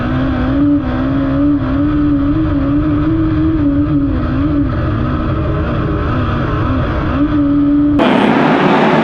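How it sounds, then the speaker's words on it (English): The Abacus Racing number 57 midget race car roars loudly and steadily on a dirt track, its engine note wavering as the throttle is held open, before a sudden burst of broadband noise near the end. "The Abacus Racing number 57 car punches the throttle."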